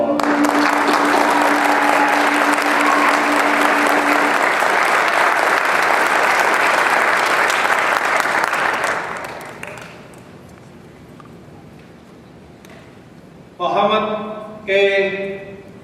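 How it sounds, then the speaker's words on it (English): Big, sustained applause from a degree ceremony audience for graduates lasts about nine seconds, then drops away to room quiet before a voice begins speaking. "let's give them all a round of applause."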